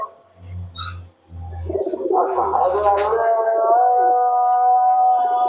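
A Kaldoma pigeon coos nearby in the dark in low, repeated throaty notes, followed by a sustained higher droning tone.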